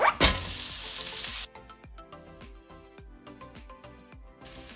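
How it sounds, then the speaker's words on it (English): Onion cooks in olive oil in a pan for kimchi fried rice, opening with a loud burst of sizzling, then quieter crackling with regular scraping and stirring strokes before the hiss swells again at the end. "First of all, cook the onion for a minute."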